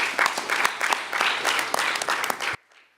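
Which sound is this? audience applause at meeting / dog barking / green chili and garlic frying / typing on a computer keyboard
audience applause at meeting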